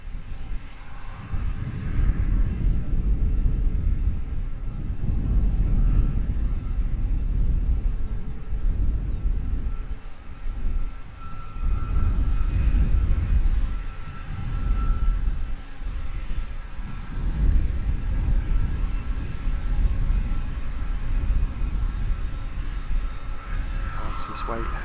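A DHL cargo plane arriving at London Luton Airport gives a steady, broad engine roar that holds for the whole stretch, moderately loud at a distance, with a voice talking over it.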